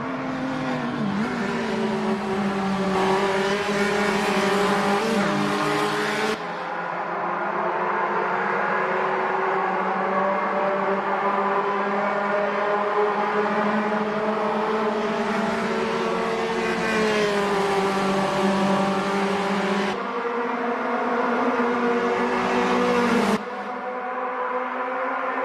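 A classic Puma GTE race car engine drones in a racing video game, holding a loud steady tone with rising and falling pitch through gear shifts, and brief cuts where the sound abruptly changes.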